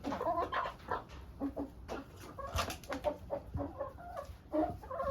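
Flock of hens cluck busily while pecking at a snack in a farm yard, with a rooster among them; the clucks overlap in a steady, close, irregular chatter that carries on without pause.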